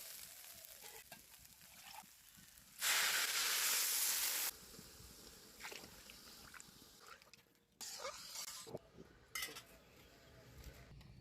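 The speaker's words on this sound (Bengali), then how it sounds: "জল দিয়ে দিলাম।" Water is poured into a hot pan of fried rice for egg pulao, making a loud hissing, rushing burst of about a second and a half, with light clinks of utensils and cookware before and after.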